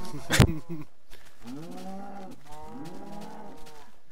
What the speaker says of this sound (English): these cows are being derps. I've never had it be this hard to lead a herd of cows back.